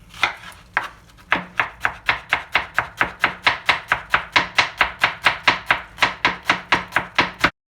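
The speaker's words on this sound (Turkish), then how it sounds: "Soğanları şöyle ortadan ikiye böldüm. İnce ince doğruyorum." Onions are sliced thinly with a knife on a cutting board: after a couple of scattered opening cuts, a fast, steady run of about twenty-five crisp, evenly spaced chops rings out close and loud, with no talking.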